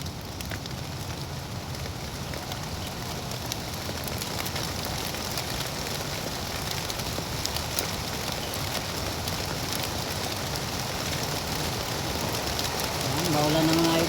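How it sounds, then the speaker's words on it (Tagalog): Heavy rain falls steadily over an outdoor school vegetable garden, a dense, even hiss of drops on surfaces that holds constant throughout and swells slightly at the very end. "At bugso ng ulan mga idol."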